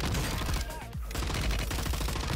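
Rapid gunfire in the Warzone video game on Ashika Island, with dense overlapping automatic shots firing nearly continuously and loudly, then a brief dip before the bursts resume.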